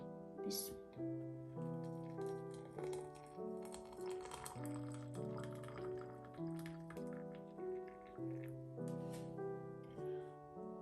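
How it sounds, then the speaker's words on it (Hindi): Hot water is poured into a glass holding three black tea bags for bubble tea, a soft liquid trickle heard faintly beneath steady background music. "अब इसमें गर्म पानी ऐड करेंगे।"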